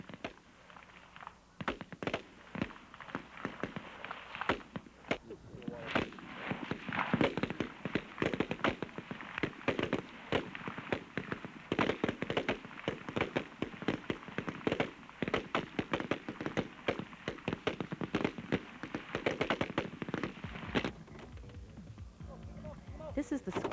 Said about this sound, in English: First, a flare is fired, and then you fire tracer bullets.